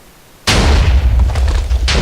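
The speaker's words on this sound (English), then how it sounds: "let's see how it fires." A Minecraft TNT cannon fires with a sudden loud boom at about half a second, followed by a sustained rumbling explosion roar that continues to the end, with no talking.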